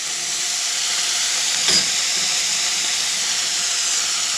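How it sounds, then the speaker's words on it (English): Hamburger steak patties browning in a pan give a steady, even sizzling hiss that holds throughout, close and fairly loud, with a faint tap near the middle. "Now we're browning the other side."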